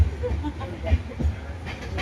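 A passenger train rolls along on a journey with a steady low rumble and faint rhythmic knocks. Voices are heard nearby over the running noise.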